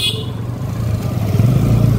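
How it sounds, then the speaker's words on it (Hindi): A vehicle's horn sounds from behind on a crowded Kanwar Yatra pilgrimage road, a sustained honk rising over rumbling engine and traffic noise, close and fairly loud with no clear speech. "भाई पीछे वाला हॉर्न बजा रहा है"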